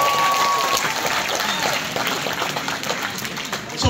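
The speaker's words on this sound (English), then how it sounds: "Can we give another round of applause?" Guests at a wedding reception give a round of applause, a full steady burst of clapping from a crowded room with faint murmuring beneath, easing slightly toward the end.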